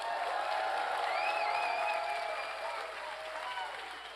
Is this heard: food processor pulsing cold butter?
no